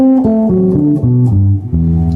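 Bass notes step downward one after another in a descending major seventh arpeggio, each plucked clearly and ringing briefly, played alone.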